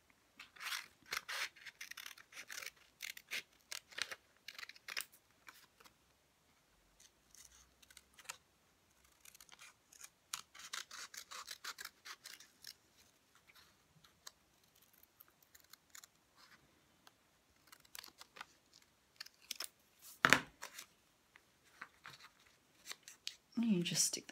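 Scissors cutting out a paper horse shape, soft crisp snips in short irregular runs with pauses between, close by and fairly quiet.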